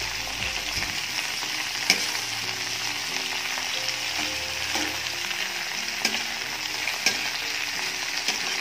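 Fish frying in hot oil gives a steady, dense sizzle throughout, with a few sharper pops and spatters standing out now and then, close and alone without speech.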